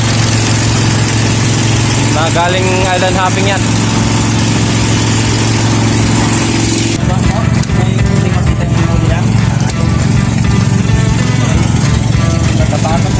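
A steady, loud motorboat engine on a bangka drones throughout, with a person talking briefly over the noise.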